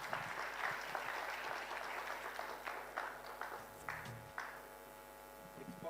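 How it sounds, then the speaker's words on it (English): Applause from the audience at a high-level leaders' breakfast meeting, steady and moderately loud throughout, with faint voices mixed in beneath it. "Applause"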